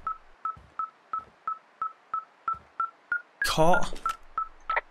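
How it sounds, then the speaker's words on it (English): In the video game Firewatch, a tracking device beeps rapidly and steadily at an even rhythm, clear and close. Someone speaks briefly partway through. "this thing is losing its mind, beeping like crazy"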